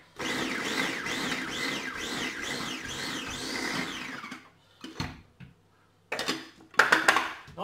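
An electric kitchen mixer whirring through parsley, chives, garlic, onions and shallot, a steady cyclic motor whine for about four seconds, then short stop-start pulses.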